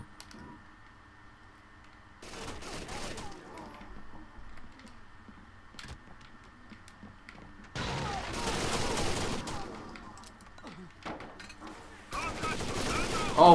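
Bursts of rapid automatic gunfire in the tactical shooter Rainbow Six Vegas 2 come in three separate volleys, each sharp and crackling against a quiet, humming background, with the last burst loudest.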